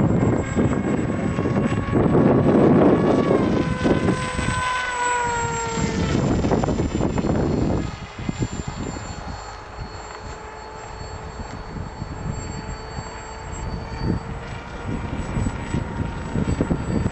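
An AXN Floater Jet RC airplane flies in strong wind, its electric motor whining loudly and shifting pitch as it passes, with wind buffeting the microphone throughout and no talking.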